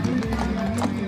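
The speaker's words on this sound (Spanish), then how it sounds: "Y caballos de alta escuela, mis amigos." Horses' hooves clip-clop steadily on pavement during a crab festival parade in La Pita, Tecoluco, El Salvador, the trained dressage horses passing close amid crowd noise and a voice talking over them.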